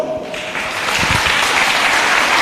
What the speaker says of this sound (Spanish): Lá nós recebemos um forte aplauso.